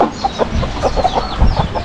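Several chickens cluck and murmur nearby in a steady jumble of short calls as they are fed, with outdoor background noise throughout.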